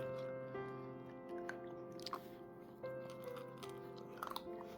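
A young pet gnaws on a pen, making faint, irregular clicks and crunchy bites over a steady electrical hum, close to the microphone with no talking.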